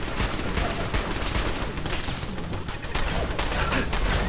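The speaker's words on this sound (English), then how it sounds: "My own turrets are shooting me." Automated turrets in Fallout 4 fire continuously, a dense, loud stream of rapid gunfire and impacts filling the whole stretch without pause or talk.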